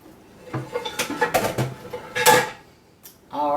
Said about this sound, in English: I'm just going to set this in the sink real quick.